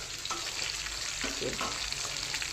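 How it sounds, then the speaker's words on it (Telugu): Fish frying in a covered pan gives a steady close sizzle and crackle, with a few soft clinks of the pan or lid over the bubbling oil and no voices. "ఒక సైడ్ అంతా బాగా ఫ్రై అయింది."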